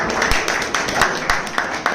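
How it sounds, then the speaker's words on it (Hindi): A crowd claps to welcome a speaker at a teacher's retirement farewell, loud and continuous applause with rhythmic, regular accents. "तालियां बजा करके स्वागत करें"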